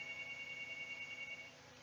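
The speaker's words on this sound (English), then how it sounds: "I wonder why the phone is ringing so much" A telephone rings steadily and faintly in the background of a Brunswick Pro Bowling game session, a thin continuous electronic tone running under low room noise for nearly two seconds.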